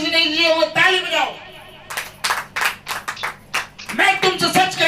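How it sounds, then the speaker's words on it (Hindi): A church congregation claps hands in a quick series of sharp, loud claps following a spoken prompt, with talk before and after the clapping. "ताली बजाओ।"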